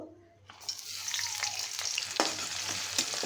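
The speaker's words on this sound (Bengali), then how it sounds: "এখানে আমি রসুন থেতো করে নিছি আর পেঁয়াজ, এটা দিয়ে আমি বাগারটা দিব।" Crushed garlic and onion drop into hot oil as a tempering for boiled greens in a Bengali taro fry, bursting into a loud, steady sizzle after a brief quiet start, with occasional stirring clicks.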